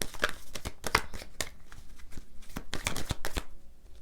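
Tarot cards being shuffled by hand, a quick run of crisp riffling flicks and slaps at close range, uneven in rhythm and with no voice.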